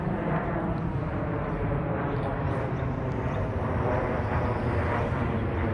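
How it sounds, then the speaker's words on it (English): An airplane passes overhead as a loud, continuous low roar that stays steady throughout. It is heard outdoors near a garage in Hampstead Gardens. "Here's a plane."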